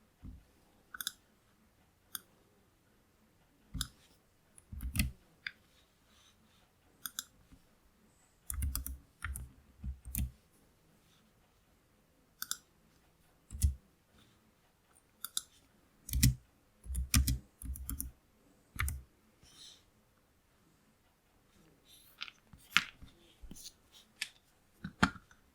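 Short bursts of clicks from a computer keyboard sound between quiet pauses, irregular and close, as someone types while working on a data-analysis setup.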